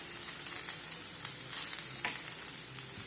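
Tamarind and coconut being sautéed in a pan for samandhi: a steady, close sizzle with soft stirring scrapes throughout, no voices.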